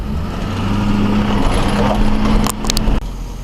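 A repo man's loud pickup truck engine idles close by with a steady low rumble, then a brief clatter and shift near the end as the sound drops slightly.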